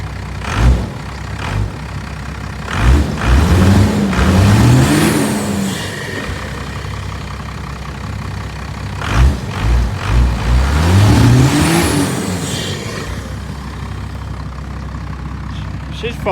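A Cummins 12-valve diesel truck engine idles loudly just after a cold start, with two sharp revs rising and falling over a steady, rough diesel clatter, up close.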